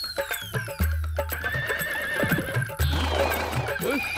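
A wild horse in an animated cartoon gives loud, close whinnies and neighs while hooves clip-clop steadily beneath, the neighs rising and falling in several drawn-out calls.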